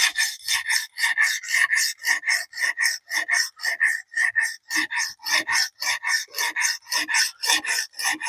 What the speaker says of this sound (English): We're just working that burr back and forth and honing the knife and making it nice and pretty and shiny